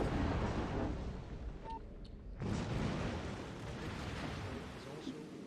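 Naval gunfire and torpedo explosions rumble in a World of Warships battle, a low, fairly faint booming wash with a sharper blast midway, and a voice faintly in the background.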